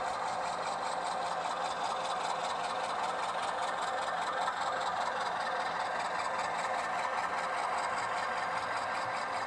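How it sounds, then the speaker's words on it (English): BN Alco C-415 diesel locomotives running on the Delta Y toward Everett's Bayside Yard, a steady droning engine rumble with a faint rhythmic throb, constant in level and heard from a distance with no talk. "Here you can see the view through the Nason Creek trestle of the engines coming around the Delta Y towards Everett's Bayside Yard."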